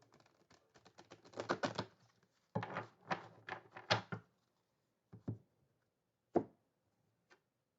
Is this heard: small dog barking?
no